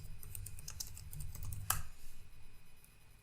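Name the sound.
typing on a computer keyboard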